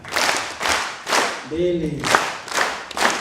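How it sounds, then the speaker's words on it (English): A conference audience in Kenya gives His Excellency a rhythmic Nyayo clap, with loud unison hand claps in a steady beat and a voice counting aloud between the bursts. "So let's give His Excellency a Nyayo clap."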